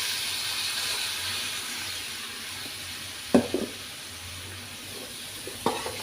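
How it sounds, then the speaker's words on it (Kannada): Boiled beans and carrot tipped into a sizzling pan and stirred for a bean carrot palya, a steady frying hiss throughout, with two brief sharp clatters of vegetables and spoon against the pan. "ಈಗ ನಾವು ಬೇಯಿಸಿ ಇಟ್ಕೊಂಡಿದ್ದ ತರಕಾರಿ ಹಾಕ್ಕೊಳ್ಳುವ."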